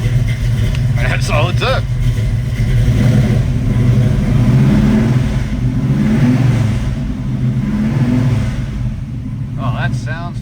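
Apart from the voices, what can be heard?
1970 Chevrolet Camaro Z/28 cold start, engine revving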